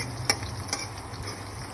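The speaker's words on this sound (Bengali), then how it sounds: "তো পেঁয়াজগুলো তেলের মধ্যে দিয়ে বাদামি করে ভেজে নেব" Onions browning in hot oil for a dried chapa shutki fish dish, giving a steady soft sizzle with a couple of brief clicks of stirring, close and alone without talk.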